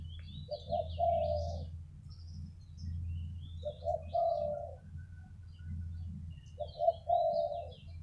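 Morning cooing of a dove, mournful phrases in three separate bursts over a steady low hum of background noise, fairly close and clear with some faint higher chirps from other birds.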